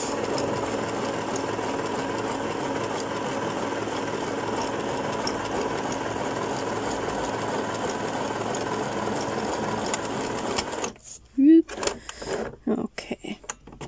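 A sewing machine stitches tag shapes onto fabric book pages, a steady mechanical whirring hum running for several seconds before stopping, followed by brief handling clicks and rustles.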